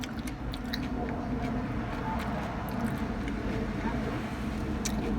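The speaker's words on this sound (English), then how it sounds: "Mmm, they're so crunchy." Crunchy Sonic Drive-In onion rings with a honey-like coating being bitten and chewed close to the mic, a continuous crisp crunching and chewing texture with no talking.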